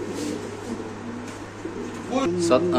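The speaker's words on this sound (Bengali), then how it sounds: "দেখেন এত পরিমাণ ডাকাডাকি করে এই কবুতরটা নিজের খাঁচায়" A Spanish pigeon coos repeatedly inside its cage, low throaty calls rising and falling close by, with a person speaking toward the end.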